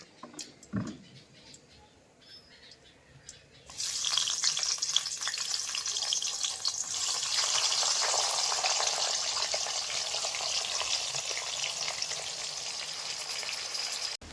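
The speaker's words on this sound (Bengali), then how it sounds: "মাছ ভাজার তেলের ওপর বেগুনটা দিয়ে দেবে" Brinjal frying in oil left over from frying fish, a loud steady sizzle that bursts in after a few quiet seconds of kitchen clatter and then holds, near and continuous.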